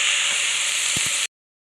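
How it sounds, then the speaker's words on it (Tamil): Drumstick leaves sautéing in a pan give a loud steady sizzling hiss with a couple of soft knocks, then a sudden cut to silence before the sizzle returns briefly. "சேர்த்து நல்லா வதக்கிக்கலாம்."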